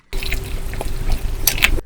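Hot water pours into a glass bowl holding whole Kashmiri red chillies and cashews, a steady close trickle and splash lasting under two seconds with a brighter burst near the end.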